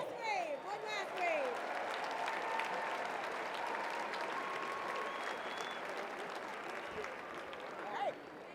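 A stadium crowd at a college football military appreciation day applauds a veterans organization, with broad, distant, washy clapping and cheering echoing across the open stands at a steady level.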